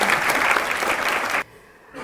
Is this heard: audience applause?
yes